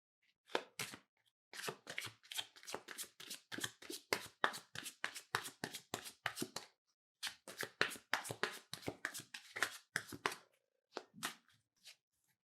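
Tarot cards shuffled by hand in repeated quick bursts of soft riffling and tapping, close and quiet, with short pauses between rounds.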